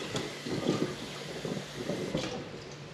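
Hot water pours steadily from a kettle into a bowl of cornstarch in a home kitchen, a continuous splashing, gurgling stream close by that lasts the whole moment with no talking.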